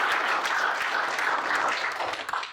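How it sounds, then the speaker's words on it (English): An audience gives a round of applause for a panelist at a scale-up entrepreneur round table, dense and steady clapping that holds loud throughout before tapering at the end. "So, yeah, give her a clap"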